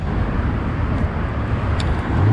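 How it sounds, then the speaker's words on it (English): Busy street traffic in central Tbilisi, a steady roar of cars and other vehicles rolling past nearby, continuous and fairly loud with no clear breaks. "There's tons of people around, lots of traffic."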